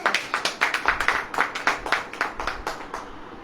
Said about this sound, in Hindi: ताली वाली बजेगी नहीं?